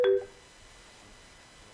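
A short electronic telephone tone sounds at the very start of a call-in line on a TV game show, then falls to a quiet, hissy line for the rest.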